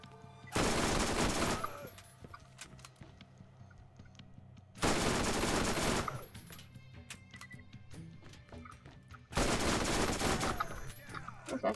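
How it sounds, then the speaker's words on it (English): SMG gunfire in the video game Borderlands comes in three long, loud, dense bursts of rapid shots separated by quieter pauses. "This SMG sure does do the job."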